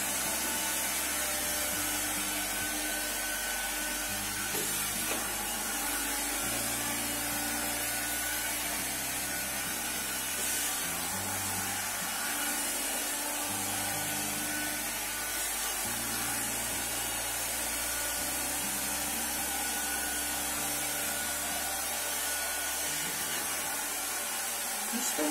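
A Karcher window vacuum cleaner runs continuously for about twenty-five seconds, giving a fairly quiet, steady motor whine with slight fluctuations as it works, and no voices.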